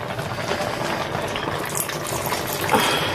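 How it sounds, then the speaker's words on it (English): Water pours into a pot of thick Nigerian soup, a steady close bubbling, gurgling fill that runs throughout, fairly loud, with no talking. "Let me see if I need a little more water."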